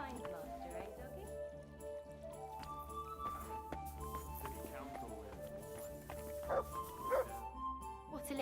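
A dog barks in the medieval game Kingdom Come: Deliverance II, short barks and yips over a layered game soundscape with background music and occasional hoof clops, while a character talks.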